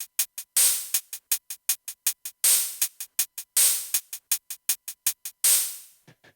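OP-1 drum synth hi-hat playing a fast programmed pattern at two velocities, short soft ticks alternating with louder, longer open hits in a steady rhythm, dry and close with no talk.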